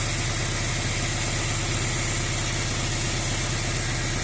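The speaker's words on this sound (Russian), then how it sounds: "я шкуркой отполировал шейку коленвала, что двигатель даже хочет работать более-менее как-то" A car engine idling steadily after its crankshaft journal was polished with sandpaper, a close, even mid-pitched running rumble with a faint regular knock, continuous and without voices.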